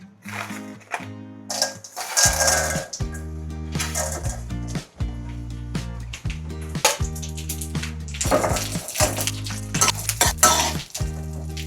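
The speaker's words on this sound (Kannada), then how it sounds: "ಸೊ ಇದನ್ನು ಚೆನ್ನಾಗಿ ಫ್ರೈ ಮಾಡ್ಕೊಳ್ಳೋಣ." Figs with black and red raisins fry in hot ghee, producing a soft sizzle punctuated by repeated close clinks and scrapes of a spatula against the pan.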